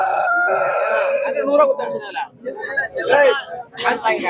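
Broiler chickens at the crowded Kundrapalli poultry market cluck and squawk close by, mixed with people talking and general market babble.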